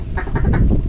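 A mallard drake on a duck hunt in a snowstorm gives three quick, loud, nearby quacks in under a second, heard over a rough, wind-like background rumble.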